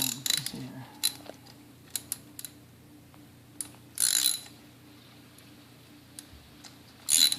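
A ratchet clicks in short, irregular bursts while loosening a spark plug on a 2012 Chevy Cruze LT, close and crisp against a quiet background.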